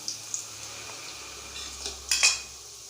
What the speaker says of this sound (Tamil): வெங்காயம் இந்த மாதிரி நல்லா வதக்கிக்கோங்க